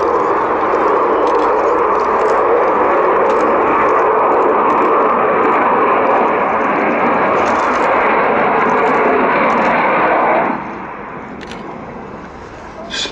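An Avro Vulcan B.2 bomber, XH558, roars through a flying display at the Royal International Air Tattoo 2013, a loud sustained jet rumble that drops away sharply near the end.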